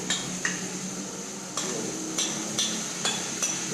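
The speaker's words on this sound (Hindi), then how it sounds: "अभी थोड़ा मैं जल्दी इसमें मिक्स कर रही हूँ" A marinated mix being stirred and tossed in a pan, soft steady sizzle under a series of sharp utensil clacks against the pan, roughly six knocks spaced irregularly, close and without talking.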